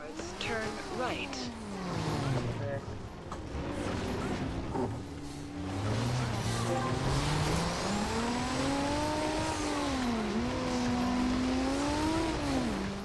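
A car driving in Forza Horizon 2, its engine revving up and down in steady, close pitch sweeps as it accelerates and eases off through turns.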